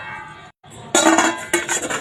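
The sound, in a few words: cake being turned out onto a dish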